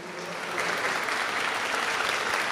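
Steady applause from an audience at a formal ceremonial session honouring the King of Nigeria, a dense wash of clapping hands that swells slightly and holds at an even level throughout.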